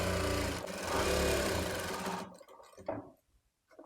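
A sewing machine stitching fabric for a baby's puff-sleeve frock runs steadily and loud for about two seconds, then slows and stops with a few short bursts and quiet gaps.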